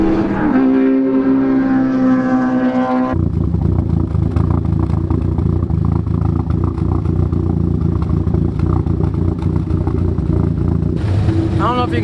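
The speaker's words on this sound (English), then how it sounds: "I don't know if you can tell, but the car's not really happy at idle and low speed." A fully built Ford Focus ST idles roughly while warming up, giving a loud, steady, slightly uneven engine rumble that follows a brief tonal sound at the start.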